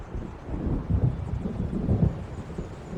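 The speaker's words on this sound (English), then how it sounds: "It seems there's a storm coming." Rolling thunder from a storm gathering over dark water in Alan Wake Remastered, a low continuous rumble with two heavier swells, steady and fairly near, no voices.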